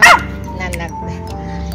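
A pet dog gives one sharp bark up front, followed by softer yips and whimpering sounds close by, with a person talking over it.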